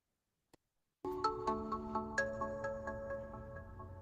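A virtual phone app rings with a clean electronic ringtone: a brief soft blip, a pause, then a steady repeating tonal pattern pulsing at a regular beat, clear and close with no voices.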